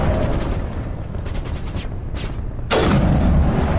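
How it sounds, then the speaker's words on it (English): Sniper rifle fire in the Mass Effect Legendary Edition video game: a sharp, loud boom near the end after a stretch of dense game noise, with a booming tail. "we'll just snipe these guys that ran out."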